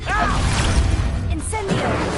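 An Expulso spell cast in Hogwarts Legacy lands as a loud whooshing burst with crashing, blast-like impacts, sweeping tones and a dense low rumble, mixed with voice-like sounds throughout.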